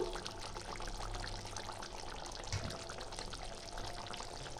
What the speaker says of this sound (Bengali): এবার আমি দিয়ে দেবো সর্ষের তেল একটু।